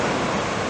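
Ocean swell with long-period sets breaks at a surf beach as a loud, steady broadband wash of surf, with no one speaking.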